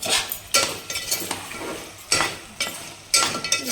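Mutton curry with ginger is stirred in a pot on low flame: a steady series of scraping, clinking spoon strokes against the vessel over a faint sizzle, close up and moderately loud, with no talking.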